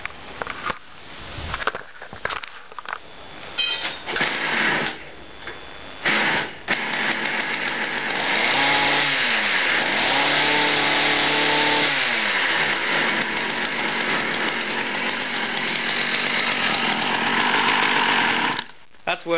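A small two-stroke hedge trimmer engine, running with its muffler refitted without the spark screen, sputters through start attempts, then catches and runs loudly with steady revving and throttle changes before cutting off.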